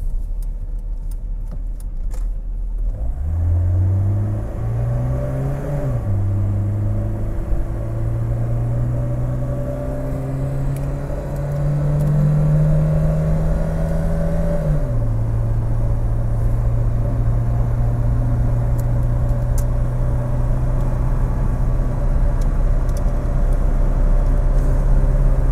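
A 1984 BMW E30 318i on a road test, its engine note climbing and dropping through several gear changes before settling into a steady drone while cruising.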